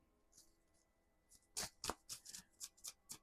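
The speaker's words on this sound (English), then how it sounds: "Last shuffle coming out for Gemini." Soft riffling of tarot cards, then a series of crisp flicks and snaps as the deck is shuffled close by, quiet overall.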